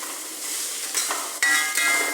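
Coconut pieces, green chilli and salt stirred in hot oil for an ginger curry, a steady soft sizzle with a scrape of the spoon partway through and brighter crackling near the end, no talk.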